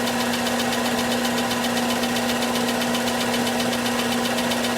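A Craftsman belt/disc sander fitted with a new belt runs steadily up close, a loud continuous motor whine with a buzzing, rattling vibration and no pauses.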